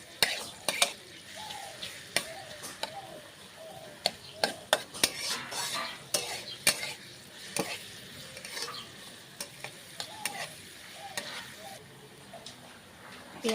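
Onions fry in a pan for a Bengali tadka until browned: a soft continuous sizzle runs under repeated sharp clinks and scrapes of a metal spoon against the pan, uneven in rhythm and fairly quiet overall.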